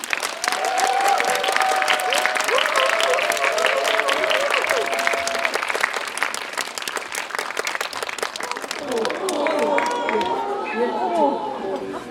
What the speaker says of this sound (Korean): 박수로 두 분 환영해주세요